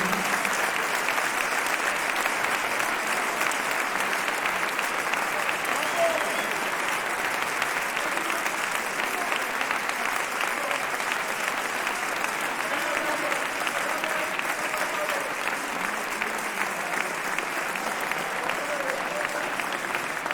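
A concert audience applauds the composer at the close of a cantata performance, a sustained, dense roll of clapping that holds steady for about twenty seconds with no voices over it.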